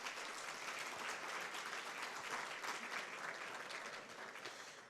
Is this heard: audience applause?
yes